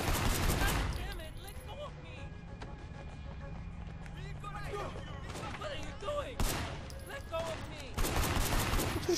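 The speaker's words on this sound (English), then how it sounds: "They're just shooting their own." Rapid gunfire bursts in the Sleeping Dogs video game, loud crackling volleys at the start and again near the end, with a quieter stretch of scattered shots and game noise between.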